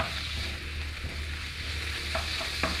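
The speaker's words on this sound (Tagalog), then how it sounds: "Ayan, lagay na natin itong minced meat." Minced ground beef fries in a pan, a continuous close sizzle with a low steady hiss and a couple of brief utensil scrapes toward the end.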